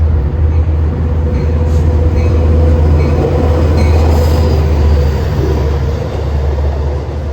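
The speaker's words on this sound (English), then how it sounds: "a Long Island Railroad train roustabout to Babb, which was a 6-car set being led by engine number 411" Long Island Rail Road six-car train led by a locomotive passing close by, a loud continuous rumble of wheels on rails with faint squeals over it throughout.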